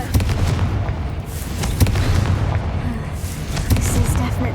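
Confringo fire spell blasts in Hogwarts Legacy, a few booming impacts over a low rumbling battle backdrop, loud and close, with talk.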